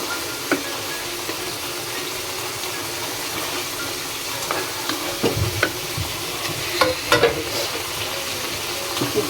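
Chopped vegetables and tomatoes fry in a pan with a steady, loud sizzle, while a spoon occasionally scrapes and taps against the metal, the stirring growing busier toward the end.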